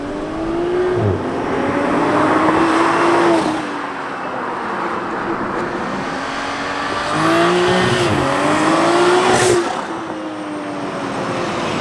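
Toyota Supra revving hard in two loud bursts, engine note climbing and falling with crackling exhaust pops as it comes off throttle, close and prominent with no talk.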